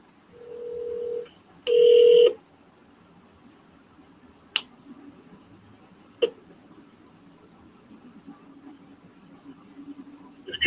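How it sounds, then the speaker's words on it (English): A telephone gives two short dialing tones near the start, the second louder and longer, followed by quiet line hiss broken by a couple of sharp clicks. "let me call these guys back real quick"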